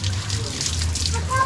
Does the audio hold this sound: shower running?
yes